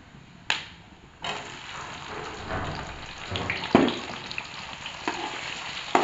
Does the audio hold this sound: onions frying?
yes